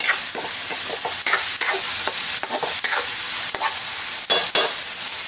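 Garlic and onion sautéing in a pan, a loud, steady close-up sizzle with spatula strokes scraping through it at irregular intervals, with no talking.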